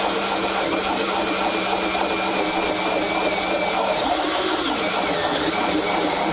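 A handheld power drill bores steadily, close and loud, a continuous high whining drone with a dense grinding roar that shifts slightly in pitch midway, with no talking.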